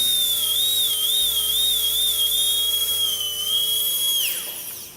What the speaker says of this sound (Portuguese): Então colocamos a broca paralela à vertente triturante e vamos preparar todos os sulcos.